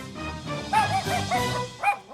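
A dog barks several times at close range with short yips in a loose irregular rhythm, fairly loud and heard alone.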